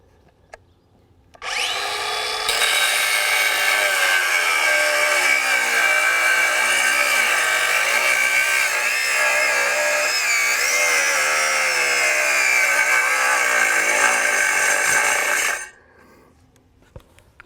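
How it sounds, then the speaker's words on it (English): A Craftsman V20 brushless 4.5-inch paddle-switch angle grinder fitted with a DeWalt Elite Series cutting blade cuts steadily for about fourteen seconds, a loud, close grinding whine that wavers slightly as it bogs, then stops abruptly. "I have the new DeWalt Elite Series cutting blade on here"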